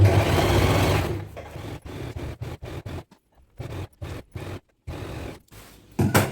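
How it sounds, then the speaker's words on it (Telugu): A sewing machine runs in close bursts while stitching the border of a dhoti with a half-inch margin: a long steady whir, then choppy starts and stops separated by brief silences, and a final short run. "ఇప్పుడు ఒక హాఫ్ ఇంచ్ మార్జిన్తో స్టిచ్ అనేది వేసుకోవాలి"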